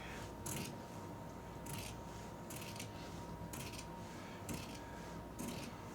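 Scissors trimming drapery lining fabric in a straight line, six crisp, evenly spaced snips close by, each a short bright cut against a quiet room hum with a faint steady tone.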